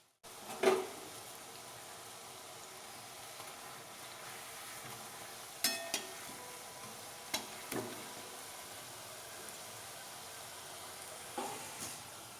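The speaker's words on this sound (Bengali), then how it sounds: "আমি প্রথমে 4টে কোফতা ছেড়েছি তেলের মধ্যে।" Four paneer malai koftas fry in hot oil on a low flame with a steady, soft sizzle throughout, broken by a few sharp clicks and knocks from a utensil against the pan.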